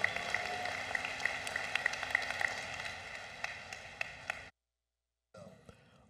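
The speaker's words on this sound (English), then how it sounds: "How about another round of applause for all of them?" Crowd applause at a university commencement ceremony, a dense, sustained patter of many hands with scattered cheers, fading and cutting to silence before a brief return of clapping.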